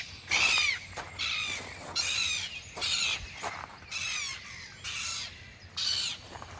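Crows or similar large birds caw loudly in repeated harsh bursts at about 5 a.m. outdoors, roughly seven calls spaced about a second apart, close and clear with no talk.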